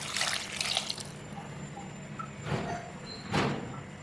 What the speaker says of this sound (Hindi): जी तो मज़ीद हम इसमें 1 गिलास पानी ऐड कर देंगे